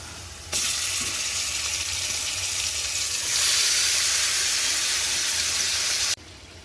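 Chicken pieces tipped into a pan of deep-red fried onions for chicken biryani set off a loud, steady sizzle and steamy hiss that swells midway and cuts off near the end, with no voices.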